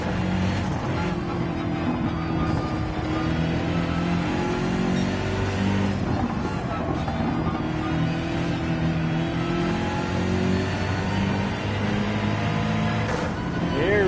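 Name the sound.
BMW car engine racing in Gran Turismo video game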